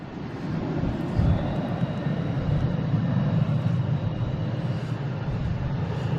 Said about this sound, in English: We got Air Portugal coming down November taxiway.